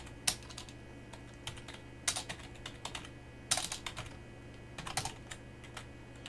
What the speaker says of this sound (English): I'm just typing in chat to,